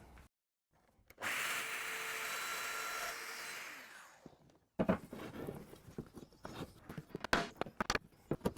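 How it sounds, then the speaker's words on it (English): Domino joiner machine cutting into wood for a mitred hi-fi unit build, a steady close whirring plunge lasting about three seconds that winds down, followed by clattering knocks and handling noises in a workshop. "give me a little bit of extra support on the end of the domino machine"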